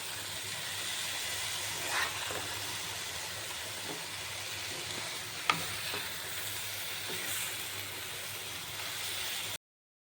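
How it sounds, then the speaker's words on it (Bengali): Small mourala fish frying in oil in a pan while being gently stirred, a steady close sizzle and hiss with a few soft scrapes and clinks, no talk. "মিনিট হয়ে গেল, এবার মাছগুলিকে আমি হালকা হাতে নেড়ে দিচ্ছি"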